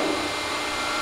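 Used Accurshear hydraulic shear, model 625020, rated for 1/4-inch by 20-foot plate, running at idle with a steady broadband hydraulic whine and hum, close and continuous with no talk.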